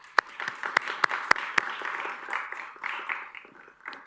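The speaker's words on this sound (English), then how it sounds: "So applause for them." Audience at a startup competition's grand finals applauding the jury members, a few sharp, loud claps at first, then a softer spread of clapping that thins out.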